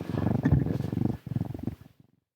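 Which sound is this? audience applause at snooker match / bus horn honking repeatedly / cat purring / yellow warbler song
cat purring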